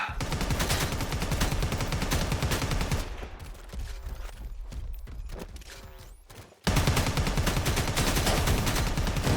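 Sustained rapid automatic gunfire from a Predator: Badlands trailer rattles loudly, thins into sparser scattered shots in the middle, then erupts again into a dense, continuous burst.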